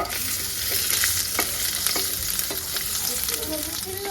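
Fish frying in a pan being gently turned over, a continuous loud sizzle with soft scraping clicks of a spatula throughout.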